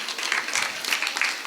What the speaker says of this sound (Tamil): தாய் கைத்தட்டியா?